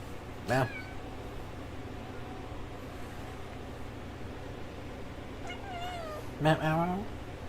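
A house cat named Hunter meows twice, a short close meow near the start and a longer wavering one near the end, over steady background hum with a person talking.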